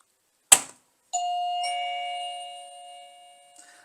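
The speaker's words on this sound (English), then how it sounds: "this is the most normal doorbell sound" A TeckNet wireless plug-in doorbell gives a sharp click, then a clear two-tone electronic ding-dong chime that rings out and fades, heard close and alone.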